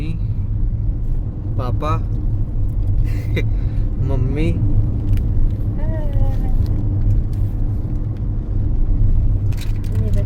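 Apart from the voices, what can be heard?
car engine driving on road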